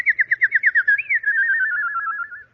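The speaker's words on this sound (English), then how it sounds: "How does one address a nightingale?" A nightingale song sound effect for a radio drama plays alone as a bright whistled trill, a run of quick pulsed warbles followed by a longer wavering held note that fades out.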